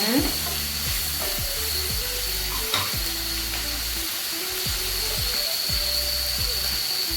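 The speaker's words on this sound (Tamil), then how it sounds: "வதங்கட்டும் நல்லா சிவப்பு வதக்கிடுங்க" Onions sauté in a pan for a country chicken curry, a loud, continuous sizzle and crackle of frying close by with repeated stirring scrapes, while low voices talk quietly beneath it.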